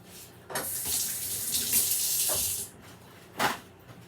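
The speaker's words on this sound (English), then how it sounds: "I'll wash my hands again and use them." Hands are washed under a running kitchen tap, a steady rush of water lasting about two seconds, followed by a brief splash and then quiet.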